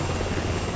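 A helicopter in Halo Reach gives off a loud, steady rotor roar that fills the whole brief moment with a dense, unbroken drone.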